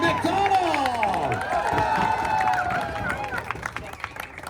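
Crowd at an EX Games sport show at the Canadian National Exhibition in Toronto cheering, whooping and clapping, with loud sustained shouts and scattered applause filling the space under an amplified announcer's voice.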